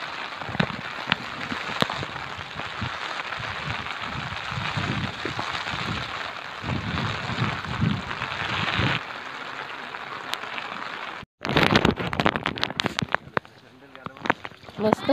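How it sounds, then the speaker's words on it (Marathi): Heavy monsoon rain with gusting wind in a green rural outdoor area, a dense continuous hiss of downpour close by and broken by rough buffeting bursts near the end, with people talking over it. "अजून पाऊस जोरात चाललाय तरी पण जातोय, भरपूर पाऊस आले"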